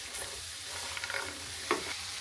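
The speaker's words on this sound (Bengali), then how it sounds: "এই যে আমার কাঁঠালের বিচি ভাজা হয়ে গেল।" Jackfruit seeds frying in a pan, a soft steady sizzle with a few scraping stirs and a sharper clink near the end, fairly quiet and close.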